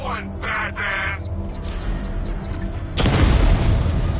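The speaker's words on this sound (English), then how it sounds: "The explosion disabled the main cannon." A deep boom from an explosion in the Batman: Arkham Knight video game, a loud wide burst of noise that swells near the end over busy game sound and bird-like caws.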